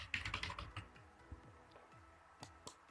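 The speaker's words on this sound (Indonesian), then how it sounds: "Di sini kita ketik nama" Quick bursts of keystrokes on a computer keyboard as a file name is typed for a CorelDRAW export, a flurry of close clicks at the start followed by a few sparse, isolated taps.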